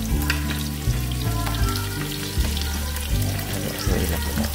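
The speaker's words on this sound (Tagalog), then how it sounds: "Lagyan natin ang ating mga sibuyas. Ayan, at haluin natin ang bahagya." Onions fry loudly in a pan while being stirred, a dense crackling sizzle broken by regular low scraping thumps of the spoon roughly every second.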